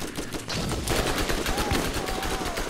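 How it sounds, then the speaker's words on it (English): Rapid automatic fire from a starter machine gun in the video game Borderlands, a dense, loud stream of shots rattling continuously over a busy game soundscape. "This starter machine gun is horrible."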